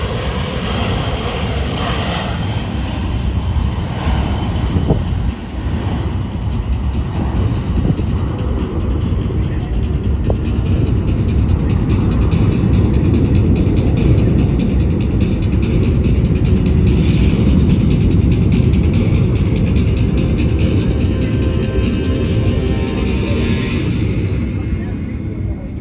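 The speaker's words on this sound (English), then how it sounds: "Our C-17 will now maneuver for its final approach to the assault landing." A USAF C-17 Globemaster heavy transport jet on final approach for an assault landing at the Dayton Air Show gives a loud, steady engine roar that lasts throughout and swells slightly toward the end, with crowd and wind noise mixed in.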